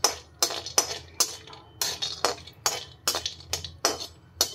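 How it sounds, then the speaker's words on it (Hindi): Almonds being stirred while roasting in ghee in a kadhai, a spoon clinking and scraping against the metal in about ten quick, regular strokes, close and fairly loud with no talking. "बादाम को थोड़ा सा भून लेंगे,"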